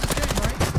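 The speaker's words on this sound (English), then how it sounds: "It's Call of Duty, brother. You're meant to shoot a gun." Rapid gunfire from Call of Duty on Rebirth Island, a steady burst of closely spaced shots filling the whole moment, loud and dense with no pauses.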